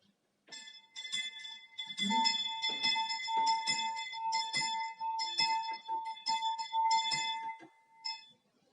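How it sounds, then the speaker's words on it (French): A pulled doorbell at the entrance of an ogre's castle jangles with bright, ringing chimes in an irregular clattering sequence lasting several seconds, alone and fairly clear. "Elle tire sur la sonnette."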